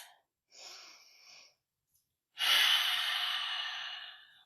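Slow, deliberate yoga breaths during a warrior pose sequence: a short soft inhale, a pause, then a long, strong, breathy exhale drawn out close to the microphone.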